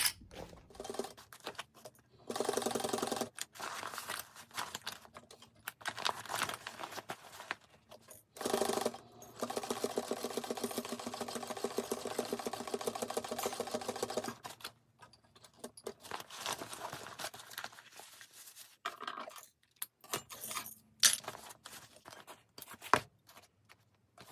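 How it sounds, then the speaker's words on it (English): A sewing machine stitches a bag seam from the inside in several bursts, its rapid mechanical clatter starting and stopping between pauses, fairly close and alone without talk. "now we're going to sew this at 3/8 inch"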